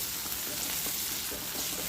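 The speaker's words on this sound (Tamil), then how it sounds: "இதையும் நல்லா அந்த எண்ணெயோடு அப்படியே வதக்கி விட்டுக்கிறேன்." Potato and drumstick pieces sautéing in hot oil for a village-style dried-fish curry, giving a steady, close sizzle and crackle with faint stirring, no voices.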